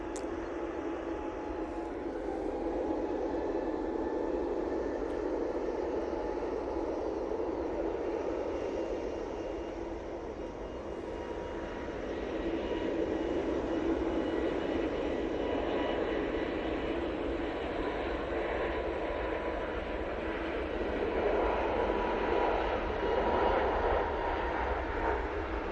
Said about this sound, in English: Lufthansa City A320 Neo now on the roll off to Frankfurt